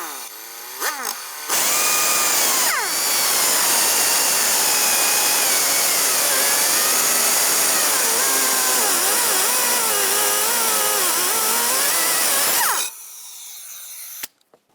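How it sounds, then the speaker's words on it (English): A power cutting tool whines loudly and steadily for about eleven seconds while slicing through the door hinge pin of a 2005-2010 Dodge Dakota, with a short burst before it, pitch wavering under load, then stopping abruptly. "Now let's continue on to cutting this pin right across here."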